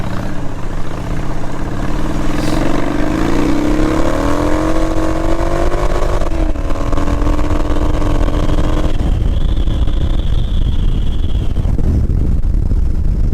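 Motorcycle running at about 100 km/h on a corrugated dirt road, a loud, continuous engine drone with rising pitch and constant wind rush close to the rider, no voices.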